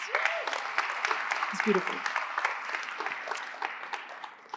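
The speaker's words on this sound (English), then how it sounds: "Another round of applause, please." Audience applause at a storytelling event, a dense wash of clapping with a few voices and a short remark spoken over it.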